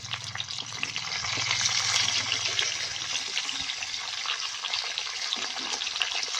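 Tomatoes, onion, green chilli, ginger and garlic fry in oil for a matar mushroom sabji, a loud, continuous sizzle with stirring noises and a low hum during the first half, with no talking.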